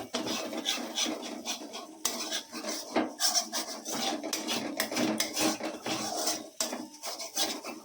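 Capsicum being stirred in a pan while cooking restaurant-style paneer butter masala: a steady run of scraping and clinking of a utensil against the pan, with no talk, close and continuous.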